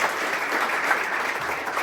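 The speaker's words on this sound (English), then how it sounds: "Giving one more round of applause for everyone out here." At the re-opening of the UNLV boxing gym, a crowd claps in a brief, even burst of applause that holds at steady loudness.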